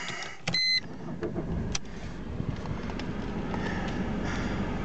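A Mercedes B180 is started with a short click and whir, then its engine settles into a low, steady idle heard close up inside the car, with no talk.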